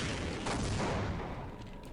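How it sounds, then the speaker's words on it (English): Rockets fired from an RPG launcher at a boss's sack in Half-Life land as dense, continuous booming gunfire and blasts, loud and close throughout. "And just start firing rockets at her sack"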